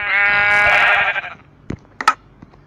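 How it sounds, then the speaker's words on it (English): A Minecraft sheep gives one long wavering bleat, followed by a few short clicks and game sounds. "sheep."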